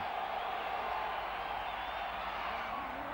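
Huge stadium crowd at Candlestick Park roaring through an American football game between the 49ers and Rams, a dense continuous wall of cheering and noise held steady from start to finish.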